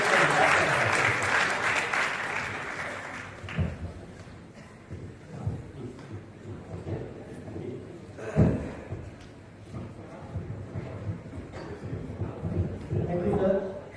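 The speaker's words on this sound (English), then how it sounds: "everyone is ready to clap" Audience applause at a healthcare conference closes a presentation, loud clapping at first that fades over a few seconds, followed by scattered thumps and room noise while people speak.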